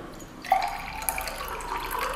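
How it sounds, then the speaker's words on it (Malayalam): Filtered water trickles down from a pressed water filter bottle, a soft, close, continuous splashing flow with a brief bright drip-like accent, heard alone without talk. "വെള്ളം ഇതേപോലെ താഴേക്ക് വരും. ഇത് ഫിൽട്ടറായ വെള്ളമാണ് വരുന്നത്."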